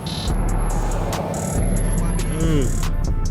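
Brakes squealing on a BMW as it comes to a stop in traffic, a high thin whine sitting steadily over the low rumble of the engine and road noise from inside the car.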